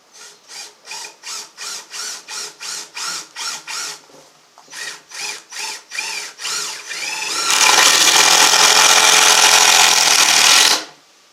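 Power drill driving into a wood knot in a farmhouse kitchen banquette build: about a dozen short, loud, rhythmic bursts, a brief pause, more bursts, then one sustained harsh grinding run before stopping, close and alone.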